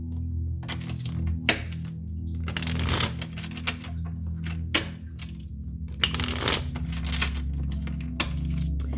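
Tarot cards being shuffled and dealt out into spreads, with bursts of riffling cards and soft slaps and taps as cards land on a surface, close and fairly loud over a low steady hum, with no speech.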